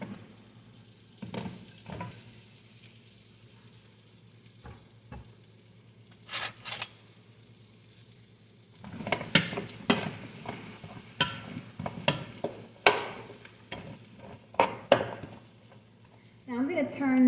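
Sweet potatoes go into a hot pot and are spread out. A few quiet clinks and taps come first, then a loud burst of sizzling and frying crackle with scattered utensil clatter runs through the second half.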